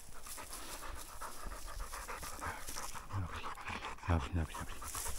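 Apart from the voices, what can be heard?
Hungarian short-haired pointer dog panting while tracking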